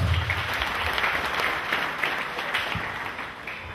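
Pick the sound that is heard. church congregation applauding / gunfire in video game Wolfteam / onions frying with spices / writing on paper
church congregation applauding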